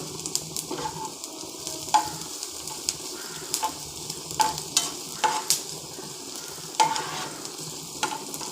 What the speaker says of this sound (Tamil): இப்போ இந்த வதக்கி வச்சுருந்த இந்த பாவக்காவை போட்டுடலாம்.